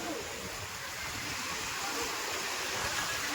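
A steady broadband wash of surf rolls continuously as waves break and spread on the nearby shore at Dwarka, with no voices.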